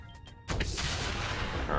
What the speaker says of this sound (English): Lots of explosions this turn.